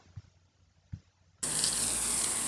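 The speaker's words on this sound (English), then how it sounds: "I'm gonna use water now to do the final cleanup" A high-pressure metal hose nozzle bursts on and blasts water steadily for cleaning out a car's wet floorboards, a loud continuous hiss and gush after a brief quiet moment with a couple of small knocks.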